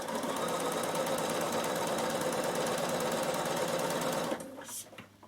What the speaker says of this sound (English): So just sew down.